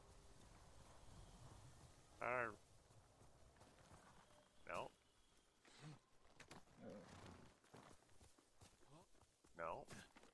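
Horse hooves clop along in the video game Ghost of Tsushima, with a steady hoofbeat under game sounds, several short tonal bursts, and a person talking.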